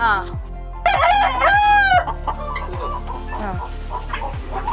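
Thalassery native chickens cluck in short bursts while a rooster crows loudly and close by, the crow rising then falling over about a second amid steady clucking.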